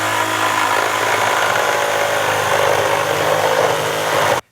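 A power tool saws steadily through an exterior house wall to cut out an opening for a wall-mounted pet door, a continuous loud buzzing whine that stops abruptly at the end.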